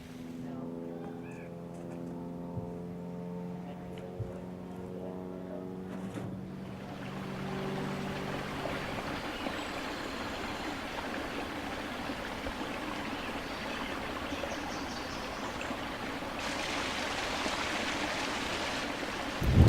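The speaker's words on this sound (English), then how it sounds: "the waterfall will come on" A backyard landscape waterfall in a dry-creek water feature comes on: after a quiet start, a broad, steady rush of flowing, splashing water builds and fills the rest of the span, fairly close and continuous.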